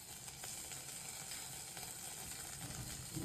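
Curry leaves and mustard seeds sizzling in a little hot oil in a kadhai for a buttermilk kadhi tempering, a steady quiet hiss with faint crackles throughout.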